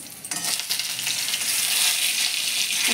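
Two dry red chillies fry in hot oil in a wok, a loud, steady, crackling sizzle that starts sharply and holds evenly to the end, with nothing else over it.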